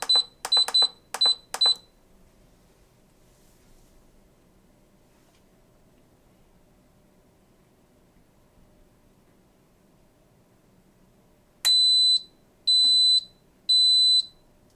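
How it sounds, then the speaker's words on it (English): Instant Pot Mini Lux electric pressure cooker sounding sharp high electronic beeps: a quick burst of four near the start, then after a long quiet stretch three longer, evenly spaced beeps, close and clear with no talk. "the unit beeps 3 times and displays on, which means it's preheating"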